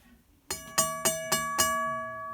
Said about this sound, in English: Here is a Reiko mechanical bell that smells really bad when it rings, and I have no idea why.